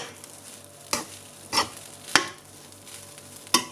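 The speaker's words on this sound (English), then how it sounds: "so you just use a small fire to fry it." Egg fried rice cooks over a small flame in a pan, a faint low sizzle punctuated by four sharp scraping stirs, spaced unevenly and heard up close with nobody talking.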